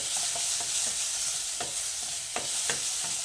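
Onion softening in a hot pan for street-style ragda patties, a steady close sizzle with occasional scrapes and taps of a spoon stirring through it, no voices.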